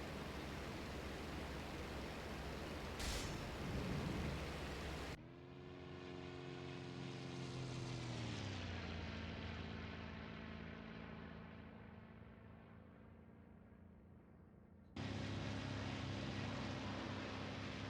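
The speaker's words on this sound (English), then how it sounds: "Yak-1. Beautiful little airplane." A Yak-1 propeller fighter plane's engine drones steadily in a flight video game, a loud, continuous roar whose pitch sweeps downward and shifts midway, with no talking.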